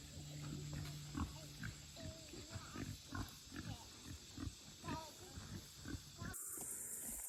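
Pigs on a small beginner farm grunt repeatedly in short uneven bursts, close by and moderately loud, with a steady outdoor hiss and brief talking.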